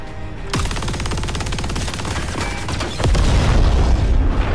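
An MG42 machine gun fires in Call of Duty Vanguard, a steady rapid stream of loud shots with a heavier boom near the end and no voices.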